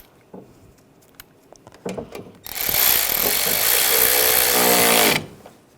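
A power tool runs the bolt down on a 2013-2016 Dodge Dart front engine mount, a steady loud whir lasting about three seconds after a few light clinks of handling the parts.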